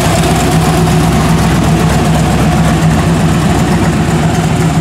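A 1957 Chevrolet Bel Air four-door station wagon, a high-horsepower build with three radiators, idles steadily with a deep, loud, close engine rumble and no one talking throughout.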